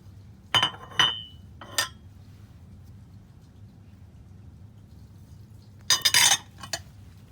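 A spoon knocks and clinks against a bowl while almonds and sesame seeds are mixed together for Moroccan ghriyba, with a few sharp scrapes early and a short burst of clattering near the end, otherwise quiet.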